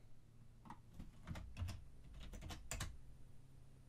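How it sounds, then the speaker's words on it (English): Keys on a computer keyboard tapped in a few quick, close bursts of clicks with short pauses between, faint and alone. "if I type something in this cell"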